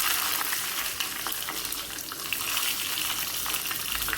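Mustard seeds and dried red chillies sizzling in hot oil for a Kerala kurukku kalan tempering, a steady bright crackling hiss with seeds popping throughout.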